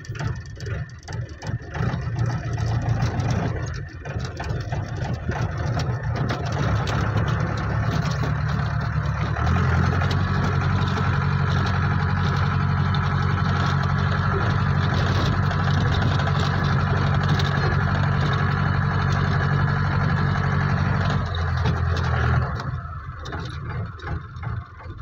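A Mahindra Marshal's rough, tractor-like diesel engine idles steadily with a low chugging rumble, revving a little louder partway through before settling down near the end.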